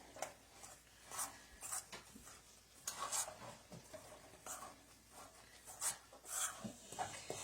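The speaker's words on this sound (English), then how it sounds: "we're going to slowly add our pot liquor in here, and we're going to mix it together" Pot liquor being stirred into cornmeal for dumplings makes soft, faint scraping and rubbing strokes against the bowl in an uneven rhythm, close by.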